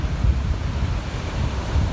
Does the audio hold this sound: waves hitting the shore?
yes